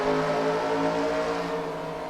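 Sportsmen race cars pulling away at the start of a heat race at West Bullring Speedway, a loud, sustained droning roar of engines with steady pitch throughout.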